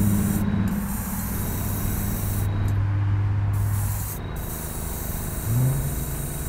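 Aerosol spray paint hisses in short bursts as a light white base coat goes onto a piece of furniture, close and steady, with brief pauses between passes and no talking.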